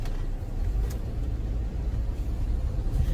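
A car driving fairly fast, heard from inside as a steady, close low road-and-engine rumble that holds for the whole stretch with no talking.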